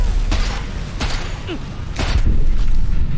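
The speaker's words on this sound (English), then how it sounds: "So I'm gonna just shoot this guy just so you can kind of see" Several loud gunshots from a power weapon in Cyberpunk 2077, fired one by one with pauses between shots over constant game background noise.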